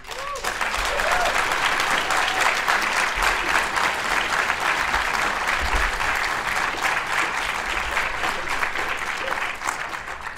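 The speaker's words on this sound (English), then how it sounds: "if you can give them an applause for the effort" A crowd at a debate awards ceremony applauds steadily, a dense, even wash of many hands clapping that holds at full strength for the whole stretch before easing slightly at the end.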